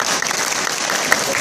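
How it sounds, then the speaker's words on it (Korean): An audience at a filial-piety festival in Sejong gives a student award winner from Bugang Elementary School a round of encouraging applause, a dense, steady wash of clapping heard close and alone. "정현진 분에게 다시 한번 격려 박수 한번 할까요?"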